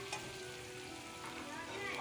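Whole spices and green chillies frying in hot oil for chana pulao, a steady soft sizzle with faint crackles, fairly quiet and continuous for the whole stretch, no voices.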